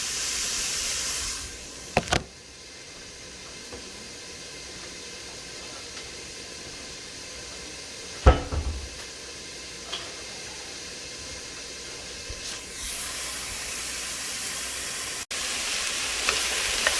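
Onions sizzle and fry in hot oil in a soup pot, a steady broadband hiss running throughout with a few sharp clanks from stirring at intervals.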